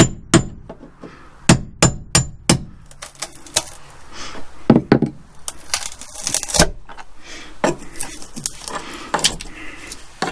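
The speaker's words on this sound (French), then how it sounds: "avec un burin je vais percer" A chisel is hammered through fibreglass on a car floor panel during bodywork, giving a run of sharp, loud metallic strikes in an irregular rhythm with scraping and crunching between blows, close up and with no talking.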